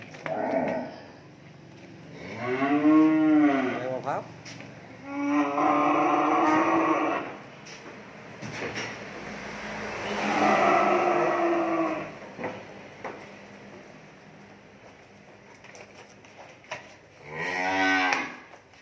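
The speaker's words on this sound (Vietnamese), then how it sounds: "Con này là con bò bê, bò lỡ." Cattle at a farm in Mỏ Cày Bắc, Bến Tre, low at intervals. About four long, resonant moos stand out clearly over a faint background hum.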